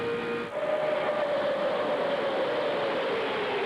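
Stock cars roar at Talladega Superspeedway during the 2001 NASCAR Winston Cup EA Sports 500: a loud, continuous engine drone with a slowly falling tone, steady and unbroken.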